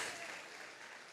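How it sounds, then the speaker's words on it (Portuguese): A church congregation applauding, a brief, faint, even wash of clapping that fades slightly over about a second. "Agora aplauda ao Senhor"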